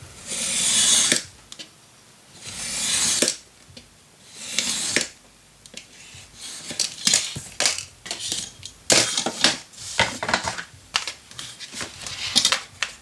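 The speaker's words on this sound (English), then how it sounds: "I just need to cut this a little shorter" Scissors cut paper for a Graphic 45 Christmas gatefold mini album: a close series of crisp snipping strokes, slower long cuts at first, then quicker, irregular clipped snips with no talking.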